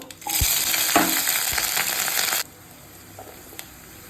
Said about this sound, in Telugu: ఉల్లిగడ్డలు కొన్ని పచ్చిమిరపకాయలు ఎండుమిరపకాయలు అండి ఈ మూడు వేసుకుంటున్నాను